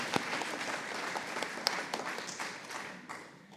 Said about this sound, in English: I give them all a round of applause